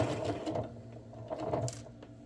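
A sewing machine stitches a seam on a comfy fall/winter sweater, a close, quiet mechanical whirr with a soft rapid needle rhythm that swells and eases over a couple of seconds.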